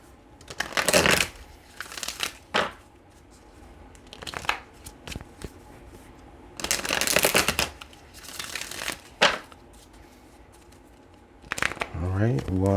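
Tarot cards shuffled in several bursts of riffling and crinkling, fairly close and moderately loud, separated by quieter gaps; a voice talks faintly in the background at times.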